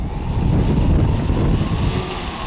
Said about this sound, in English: taxi tests of my 8-foot B-29 Kee Bird